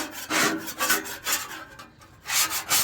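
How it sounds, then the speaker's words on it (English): A metal scraper scrapes across a Blackstone griddle in repeated rough rasping strokes, close and fairly loud, with a brief pause before the last stroke. "So I'm gonna scrape this up real quick"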